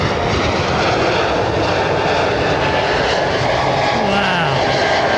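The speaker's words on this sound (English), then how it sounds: "just to show how quiet that aeroplane is" An Embraer airliner fitted with Pratt & Whitney engines takes off at London Heathrow Airport, its engines producing a loud, steady broadband roar that fills the whole stretch without letting up.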